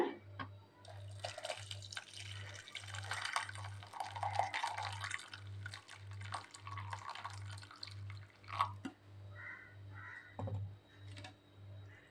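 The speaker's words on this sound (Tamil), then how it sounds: "இப்போ ஜூஸை வடிச்சுக்கலாங்க" Blended beetroot juice is strained, with liquid trickling and dripping steadily for several seconds over a soft, regular low pulsing in the background.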